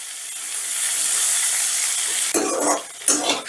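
Mixed vegetables and peas with salt fry in a pan with a loud steady sizzle, then stirring scrapes and clatters come in two bursts near the end.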